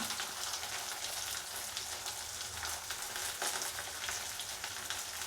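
Curry leaves and onion fry in a pan for a drumstick kuzhambu, giving a steady, close, unbroken sizzle with no talking.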